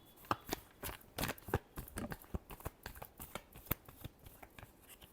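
Tarot cards are shuffled by hand in a steady run of crisp riffles and slaps, close and clear with no talking.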